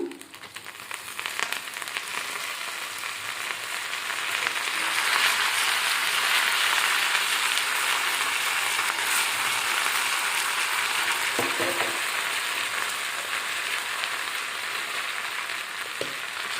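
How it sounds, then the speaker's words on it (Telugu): Tempering spices hit hot oil for a mango dal and set off a dense, loud sizzle that builds and holds steady. A few brief utensil clinks cut through it, and no one talks. "ఈ పోపులు కూడా వేసుకుందాము"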